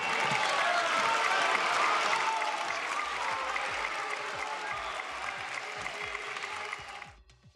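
Deputies applauding during a parliamentary session, a dense steady round of clapping in a large chamber that holds for several seconds, then thins and stops abruptly near the end.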